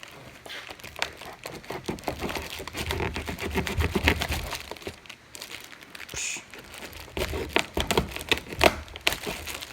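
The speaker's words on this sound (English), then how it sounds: "You may have heard the bones cracking there" Small crunching cracks and crinkly snaps from bones breaking while field dressing a squirrel, irregular close-up crackles and taps with rustling between them.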